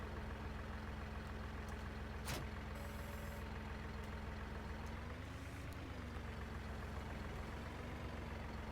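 A Massey tractor engine idles steadily in Farming Simulator 19, a low constant hum with a brief click and faint shifts in pitch, quiet and continuous with no talking.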